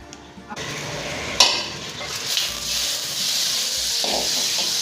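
Butter and sunflower oil hiss and sizzle in a hot pan on a low flame while being sautéed for homemade butter chicken, a steady close frying crackle with a sharper spike early on.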